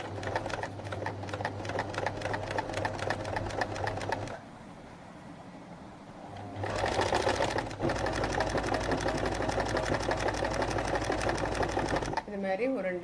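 Sewing machine running a pico stitch along a saree edge, a close, loud, rapid mechanical chatter that pauses briefly, then resumes at a steady pace.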